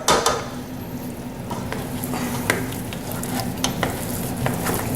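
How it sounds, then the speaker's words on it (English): Cooked potatoes being mashed with butter in a pot for cottage pie, soft squishy stirring and scraping with occasional sharp clinks of utensil against the pot over a steady low background hum. "So I want to go ahead and get these mashed up and mix together with that butter."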